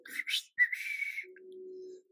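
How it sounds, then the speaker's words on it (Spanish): Short whistled notes, a couple of quick chirpy bursts followed by a longer wavering tone, then a low steady hum-like note, close by and fairly quiet. "Qué mal chiflo."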